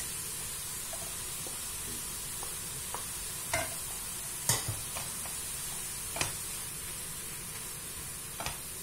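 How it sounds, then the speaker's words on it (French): Zucchini tipped into a frying pan with carrots for a vegetable vermicelli dish, then stirred: a steady soft sizzle runs throughout, broken by several sharp scraping taps of the utensil against the pan, close and moderately loud, with no talking. "Maintenant, je vais rajouter mes courgettes."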